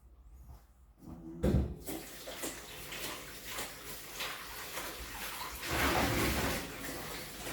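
Tap water running over vegetables being washed in a kitchen sink, starting quiet then splashing and gushing unevenly, with a louder surge toward the end.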